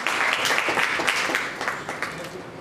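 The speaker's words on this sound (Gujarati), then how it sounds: "વારંવાર આ સંસ્થાઓને તાળીઓના ગડગડાટથી વધાવવાનું મન થાય છે" An audience at a charitable trust gathering in the Mukteshwar Mahadev complex in Sihor claps loudly and steadily, a dense wash of applause with a voice faintly underneath.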